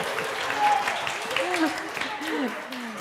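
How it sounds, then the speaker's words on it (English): A congregation at a Unitarian Universalist Sunday service applauds, a soft continuous patter of many hands with voices murmuring through it. "Let's give him a round of applause."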